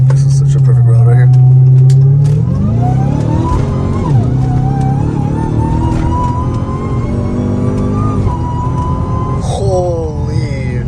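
A Dodge Challenger Hellcat Redeye or a tuned 670 hp Mercedes C63s accelerates hard on a highway, its engine note rising steadily through the gears, loud and close, with voices talking over it.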